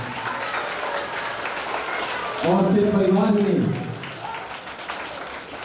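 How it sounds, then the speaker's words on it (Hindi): An audience at a village welcome ceremony honouring a UPSC achiever breaks into sustained applause, a dense wash of clapping that swells midway and then fades, with someone speaking over it through a microphone. "एक बार जोरदार तालियां उन सभी लोगों के लिए।"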